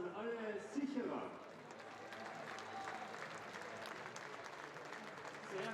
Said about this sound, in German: Vielleicht auch Ihnen mal einen super Applaus an alle Sicherer.